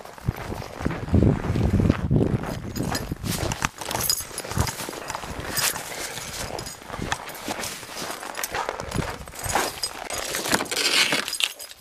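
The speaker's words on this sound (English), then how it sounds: "Okay, that was the sound of the door opening." Car door at minus 36 degrees cracking and crunching open, with brittle icy snaps and scraping bursts over roughly twelve seconds, loud and close with no talk.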